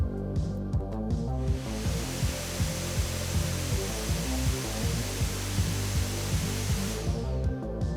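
Steady broadband noise from the three cooling fans of an Acer Predator Triton 500 SE laptop, with a faint high whistle from the smaller middle fan, under rhythmic mechanical pulsing, starting and stopping abruptly.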